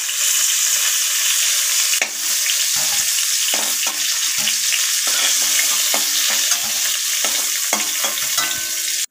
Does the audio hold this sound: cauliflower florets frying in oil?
yes